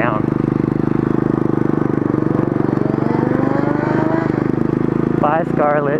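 Mini moto motorcycle engine buzzing loudly and steadily close by while riding, pitch wavering slightly as it moves, with a voice speaking briefly near the end.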